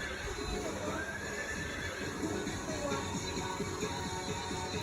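A horse neighs and whinnies repeatedly with clip-clopping hooves and shuffling, a steady, fairly close commotion throughout with no clear talk over it.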